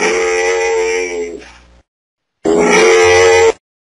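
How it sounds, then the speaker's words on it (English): A camel grunts twice: a long, rough, guttural groan that trails off, then a short pause and a second loud grunt. "Camel."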